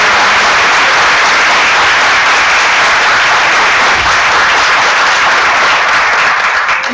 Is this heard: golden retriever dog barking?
no